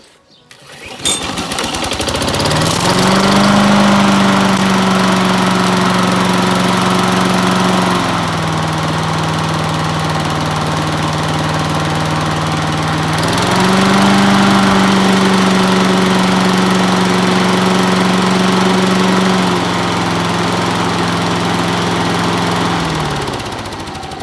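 Briggs and Stratton engine on a Victa lawn mower running, a loud steady buzzing drone close by that rises in speed twice and settles back, with no talk.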